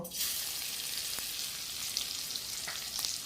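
Crushed garlic hitting hot oil sets off a loud, steady sizzle that stays strong throughout, with a couple of faint clicks mixed in.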